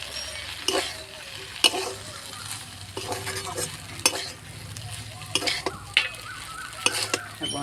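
Spatula scrapes and clinks against a pan at an irregular pace while vegetable Maggi noodles with tomato sauce, pepper and masala spices sizzle softly underneath, close and fairly quiet.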